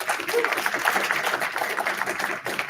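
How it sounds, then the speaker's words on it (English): At a university student government meeting, the audience gives a steady round of applause, a dense patter of many hands at moderate distance, with some voices mixed in. "you can go ahead and clap"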